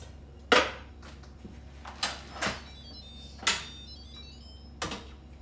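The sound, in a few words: opening the lid of an Instant Pot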